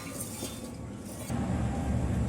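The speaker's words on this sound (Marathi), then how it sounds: "आता ही भाजी घालूया आपण पातेल्यात" Freshly picked wild monsoon kurdu greens are dropped into a metal pot for washing, giving a steady, fairly loud rustling and faint metallic clatter that swells partway through, with no talking.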